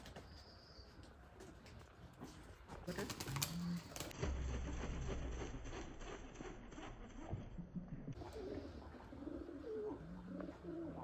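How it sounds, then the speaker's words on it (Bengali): White pigeons coo softly in a rural village garden, low repeated calls under faint background chatter, rustling and occasional chirps. "সাদা পায়রা ঘরে থাকা খুব ভালো রে।"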